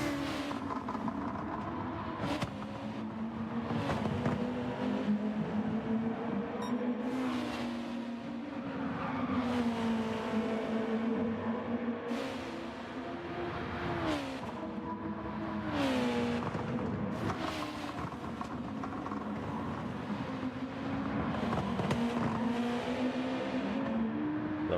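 Race cars in Gran Turismo 7, engines screaming and revving as they battle and bump each other, with several shifting, sweeping whines and repeated passing surges over the whole stretch.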